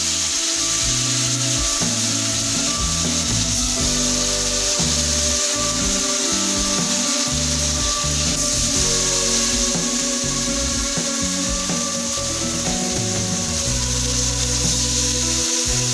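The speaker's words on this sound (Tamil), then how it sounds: "இனி ஒரு தவாயில் குக்கிங் ஆயில் சேர்த்துக்கிட்டு நம்ம ஒவ்வொரு ஃபிஷ்ஷை எடுத்து அதில் பொரிச்சு எடுத்துக்கலாம்" Masala-coated green fish frying in cooking oil on a tawa, a steady dense sizzle with constant crackle and spatter that holds evenly loud throughout, with no voices.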